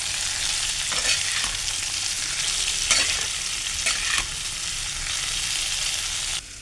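Ground cumin and chilli powder are stirred into vegetables frying in a pan, a steady loud sizzle broken by several scraping stirs of the spoon, close up with no talk.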